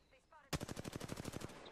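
Rapid burst of Triple Take rifle fire in the Apex Legends battle royale game, a dense run of about a dozen loud, evenly spaced cracks after a brief quieter lead-in with faint game sounds.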